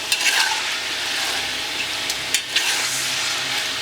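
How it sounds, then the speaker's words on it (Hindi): Chicken pieces for a Bhavnagar-style Gujarati chicken masala fry and get stirred in a pan, giving a steady close sizzle with scraping spoon strokes and a few sharper clinks, no voices. "आप देख रहे हैं ये हमारा चिकन जो है बढ़िया फ्राई हो गया"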